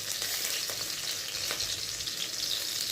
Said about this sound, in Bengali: রসুনটা হালকা করে ভেজে নিয়ে পেঁয়াজটা দিয়ে দেবো